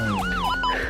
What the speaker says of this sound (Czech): zavolám sanitku.